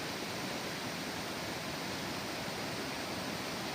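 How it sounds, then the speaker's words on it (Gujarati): Continuous roaring rush of river water falling below a dam, even and unbroken throughout, heard from close by. "પાણીનો તમને અવાજ આમાં બહુ વધારે આવતો છે, કેમ કે પાણી બહુ અહીંયા પડે છે"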